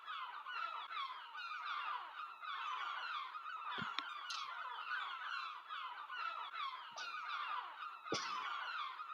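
A flock of birds calls continuously, a dense chorus of honking, goose-like cries with a few sharper calls standing out.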